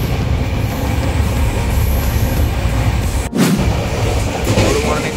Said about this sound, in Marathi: ट्रेन तर बघा का हलते आहे मधून फास्ट आहे